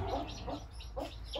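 A hen clucks in short, soft bursts on a small farm plot, fairly close and set against low background rumble, with no voices.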